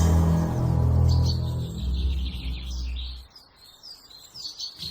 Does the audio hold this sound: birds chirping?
yes